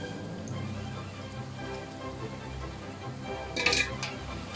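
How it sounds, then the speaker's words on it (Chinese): Lotus root sandwiches deep-frying in hot oil for a second fry, a steady crackling bubble with a brief louder burst of sizzle near the end as pieces go into the oil. "温度现在差不多了啊，七至八成热，下锅再炸一下。"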